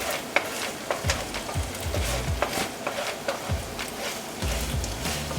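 A spice-rubbed pork mixture stirred in a pan while onions fry, loud continuous sizzling with rhythmic scraping strokes of the spoon, close up, no talking.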